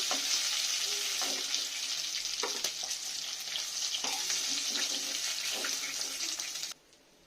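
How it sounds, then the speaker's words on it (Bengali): Fish sizzling in hot oil in a pan, a dense continuous crackle broken by several light scraping and stirring knocks, ending abruptly in near silence. "মাছটা আমার লাল লাল করে ভাজা হয়ে গেছে"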